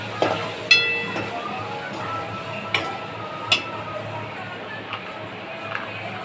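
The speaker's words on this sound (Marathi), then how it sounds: "हे मसाले सगळे चांगले मिक्स करून" Turmeric, Kashmiri red chilli and other spices get stirred into ghevda beans in a pan: a soft, continuous frying sizzle with occasional sharp ticks of a spoon against the pan, near and moderate in level.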